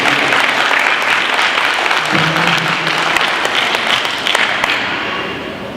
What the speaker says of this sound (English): Give him a clap as he's coming.